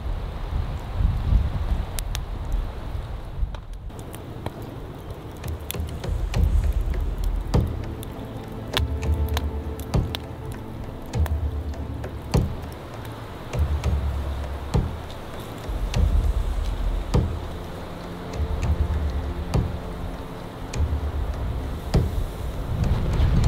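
Snowstorm wind at about 6 metres per second gusts steadily through trees, blowing snow with faint creaks and squeaks from the branches, continuous and fairly loud throughout.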